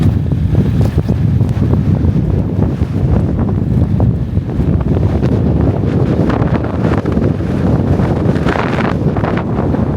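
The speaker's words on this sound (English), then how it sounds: "Oh, when you get in the wind, it's brutal." Strong blizzard wind buffets the microphone at a snowy winter campsite with an inflatable tent, a loud, continuous roar with gusty swells that holds steady for the whole stretch, with no talking.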